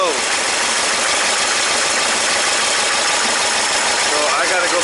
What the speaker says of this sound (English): So now that we've got the engine warmed up, let's turn the car back on and then go from there.